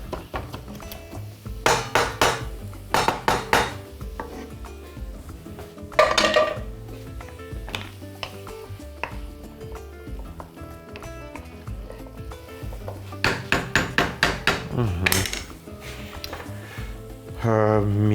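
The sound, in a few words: mashing part of the cooked chickpeas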